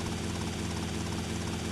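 In GTA Vice City, a helicopter flies with a constant loud rotor and engine drone, evenly throbbing and filling the whole stretch with no gaps, no talking.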